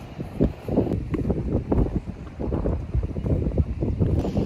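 Strong wind buffets the microphone in rumbling, uneven gusts that rise and fall throughout on an open trail between Cape Kamui and Otaru, Hokkaido, with no voices over it.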